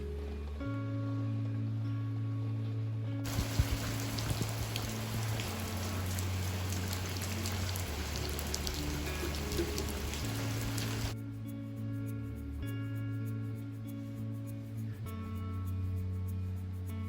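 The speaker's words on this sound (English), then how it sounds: "I just love how cozy it is to be inside while it's raining so hard outside." Heavy rain pours outside in Los Angeles, a dense steady hiss with a louder, harder downpour stretch in the middle, heard close over a low continuous hum.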